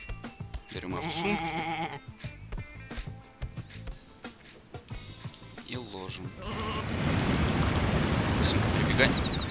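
Sheep bleating in the video game Sheep, Dog 'n' Wolf, a few short wavering bleats among clicks and game effects, with someone talking briefly over them before a louder rushing noise fills the end.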